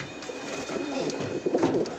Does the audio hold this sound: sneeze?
no